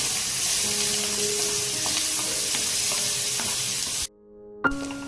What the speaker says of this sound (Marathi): त्याच्यामध्ये हे हिरव्या मिरचीचे तुकडे आणि हा कांदा आणि छान परतून घ्यायचा कांदा